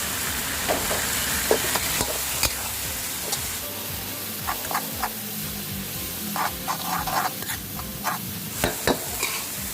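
Mussels stir-fried with fresh holy basil and chili in a pan make a steady close sizzle, broken by repeated scraping strokes and clattering knocks of the spatula at an uneven rhythm.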